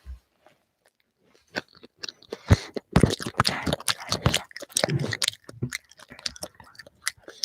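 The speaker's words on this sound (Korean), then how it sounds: "네, 마이크에 대고 씹으시면 돼요" A five-year-old chews Korean rice cake (tteok) right against the microphone, with close, wet, squishy chewing and crunchy bites in irregular bursts after a brief quiet start.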